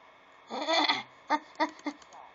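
Sheep bleating in the video game Age of Empires 2, a wavering bleat followed by three short, separate bleats, fairly faint, with no talk over them.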